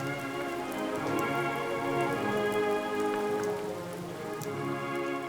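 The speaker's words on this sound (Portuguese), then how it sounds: "Uma noite de chuva, uma bandeira que desce, outra toma o seu lugar." Rain falls steadily on a surface at night, a dense continuous patter with sustained tonal sounds running underneath throughout.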